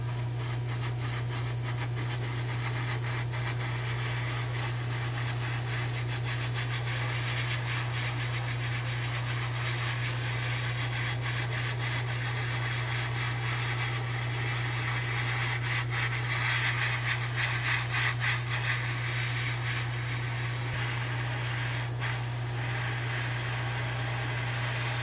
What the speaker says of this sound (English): now I'm going to go spray some Quicksilver Chrome